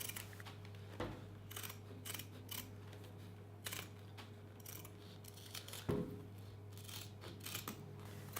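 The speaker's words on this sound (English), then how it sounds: "Now trim the cast." Scissors snip repeatedly through a splint cast being trimmed for an elbow drop-out splint, a series of close, crisp cuts at an uneven pace over a steady low electrical hum, with no talking.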